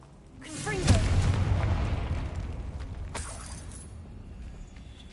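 Confringo blasting spell in Hogwarts Legacy, a single loud booming explosion that hits suddenly and rumbles away over several seconds, with a smaller crackling burst following.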